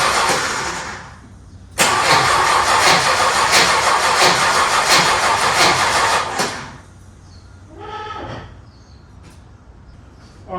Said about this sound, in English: I'm going to crank the engine over, make sure we get oil pressure, make sure we get fuel